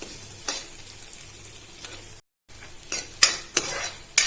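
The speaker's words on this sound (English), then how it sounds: "You just need to saute it for 10 to 15 seconds" Chopped onions sauté in a pan with a soft sizzle, broken by a brief cut to silence, then several sharp scrapes and clinks of a spatula against the pan, close and without talking.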